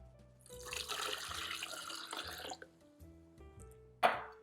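Two cups of water poured into a cooking pot for a vegan sloppy joe filling, a steady close splashing pour of about two seconds over a low background hum, ending with a sharp clunk.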